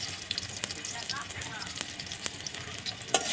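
Bay leaf and garam masala fry in oil in a kadai with a soft, steady sizzle and scattered small pops, fairly quiet and close.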